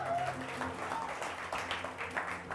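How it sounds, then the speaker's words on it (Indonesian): A church congregation at a Sunday service applauds volunteers, a faint, distant patter of clapping blended with murmuring voices and a low hum of the hall. "Boleh sekali lagi tepuk tangan buat mereka"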